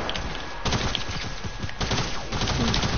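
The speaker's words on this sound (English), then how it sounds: "Somebody's shooting at me." Bursts of rapid gunfire crackle through a console shooter game match, sharp repeated shots in quick clusters, fairly close and loud, with brief pauses between volleys.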